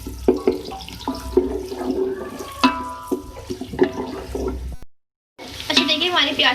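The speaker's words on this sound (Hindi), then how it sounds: "अच्छा देखिए, हमारी प्याज का कलर चेंज हो चुका है, फ्राई हो गई है" Onions fry in ghee and oil, with busy sizzling and clattering stir strokes up close. A brief silent gap falls near the end before the sizzling resumes.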